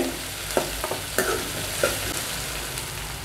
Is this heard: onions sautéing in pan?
yes